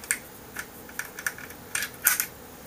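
.30-30 cartridges pressed one by one into the magazine tube of a Winchester M1894 lever-action carbine, giving about seven sharp metallic clicks at an uneven pace, close and clear.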